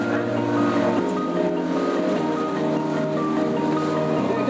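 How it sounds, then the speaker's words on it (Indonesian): A thin fiberglass boat hull slaps against high sea waves near a mangrove coast, a continuous close rushing wash of water with dull knocks, no talk. "Itu suara kapal kena, bukan kena karang tapi kena ombak."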